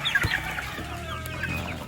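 Boston Roundhead and Lemon gamefowl hens clucking with short, scattered calls over a busy farmyard background, no talking.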